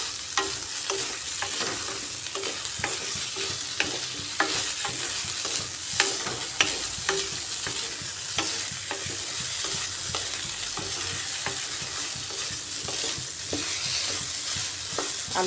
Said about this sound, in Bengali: তাই আলু আর সোয়াবিন একসাথে ভাজা ভাজা করে নিচ্ছি।